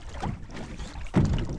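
A canoe is paddled on open water with a short paddle, giving soft splashing and rushing strokes close by, with a stronger stroke near the end.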